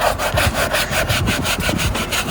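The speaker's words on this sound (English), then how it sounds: "So just gonna really scrub it down." A hand brush scrubs a car interior in fast, steady back-and-forth strokes, loud and close with an even rhythm of about five strokes per second, and no talking.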